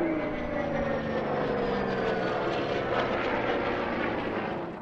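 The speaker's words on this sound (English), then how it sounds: "The one that's following is the one that did service first, the Grumman Wildcat." Grumman Hellcat and Wildcat WWII warplanes flying by at an air show, a steady loud piston-engine drone with a slowly shifting pitch, sustained and fairly near.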